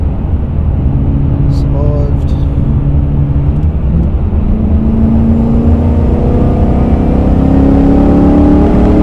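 Whipple-supercharged Ford Mustang GT on E85 fuel accelerating hard, heard loud from inside the car as a sustained roar with a rising supercharger whine, while someone talks over it.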